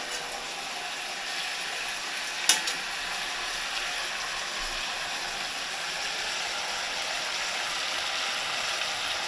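Steady hiss of fish frying in a pan with cumin, with one brief sharp clink partway through; no voices.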